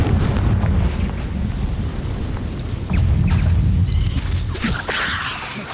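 A Confringo fire spell from Hogwarts Legacy bursts in a heavy, rumbling blast, followed by a second booming impact about halfway through and crackling debris tailing off, loud and close with no talk.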